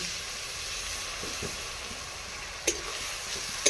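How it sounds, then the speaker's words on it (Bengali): Masala for chicken kofta curry sautéing in hot oil, giving a steady close sizzle and hiss with a couple of sharp stirring clicks near the end; no voices. "খুব ভালো করে কষতে থাকবে এগুলো যতক্ষণ না মশলা থেকে তেল ছেড়ে বেরিয়ে আসছে"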